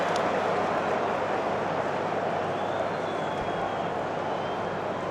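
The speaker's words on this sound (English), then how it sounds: "met with a roar of approval by the Twickenham crowd" Twickenham rugby crowd at an England v Scotland match, a broad, steady roar of thousands that holds loud and unbroken throughout, with a commentator's voice faintly beneath.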